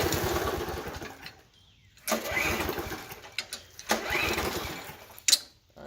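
A push lawn mower engine runs unevenly, surging and dropping out in bursts with brief gaps of near silence between them, heard nearby and fairly quiet.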